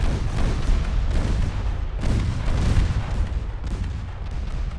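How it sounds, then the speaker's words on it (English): Naval battle in Ultimate Admiral: Dreadnoughts, with torpedo hits and ship gunfire rolling as dense, continuous booming rumble, loud and sustained with heavier swells of explosions and no talk. "10 direct torpedo hits."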